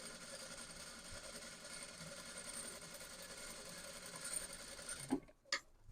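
A sewing machine stitches along the edge of blouse lining fabric, a steady close mechanical whir running continuously before stopping with a couple of brief clunks at the end.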